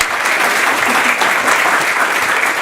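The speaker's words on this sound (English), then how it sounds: "Please, applause for Catherine." A room full of conference attendees claps steadily to welcome a guest on stage at an event on autonomous vehicles and the city; the applause is dense and even throughout.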